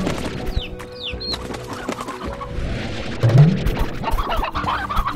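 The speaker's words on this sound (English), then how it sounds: "chickens galore here." Chickens cluck and chatter in a busy, cluttered mix in the video game Slime Rancher, with a few bird-like chirps and scattered clicks layered over a steady background hum.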